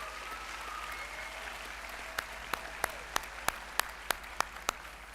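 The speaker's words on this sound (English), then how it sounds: "How about a big round of applause for the volunteers here tonight?" Commencement audience applauds volunteers, a steady, moderately distant wash of clapping, with a run of crisp, rhythmic loud claps close by joining halfway through and continuing evenly to the end.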